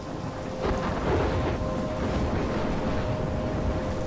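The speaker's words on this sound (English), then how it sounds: "I'm trapped in a storm?" A stormy scene from the video game Life Is Strange, with steady broadband rain and a low, rolling rumble of thunder that swells around the first second and holds loud throughout, with no one talking.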